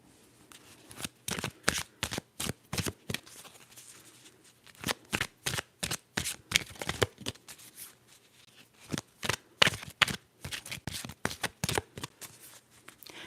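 A deck of cards is shuffled close up over and over, each riffle a quick crisp flutter, coming in uneven runs with short pauses between them at a soft ASMR volume, with no talking.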